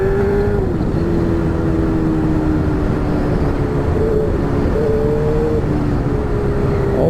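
Motorcycle engine in a video game, a continuous droning hum with its pitch gliding up and down as it revs, steady and loud with no pauses.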